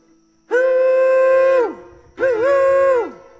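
A voice imitates a train with two long, loud, steady tonal blasts like a horn, the second starting with a brief wavering dip before holding steady.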